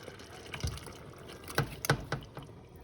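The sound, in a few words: pouring black beans into pot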